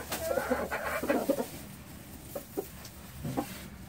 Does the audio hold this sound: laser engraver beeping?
no